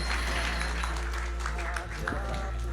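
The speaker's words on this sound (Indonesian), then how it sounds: "Kita berikan tepuk tangan yang paling hangat." Applause rises from the audience at an anniversary celebration, a continuous wash of clapping under a steady low hum from the hall's sound system.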